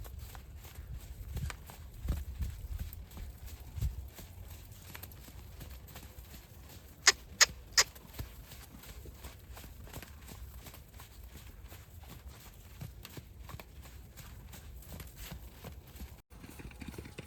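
A horse, a mare with a closely cropped mane, trots outdoors; steady, evenly spaced hoofbeats run throughout at moderate loudness, with three sharper clicks partway through and no talk.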